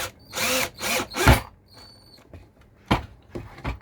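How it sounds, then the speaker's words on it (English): A big power drill forces inch-long number 8 screws into wood at a workbench, several short whirring bursts separated by pauses, close and loud, with no talking. "Got my big drill out"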